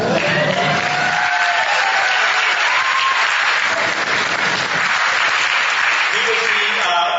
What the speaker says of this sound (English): our biggest round of applause tonight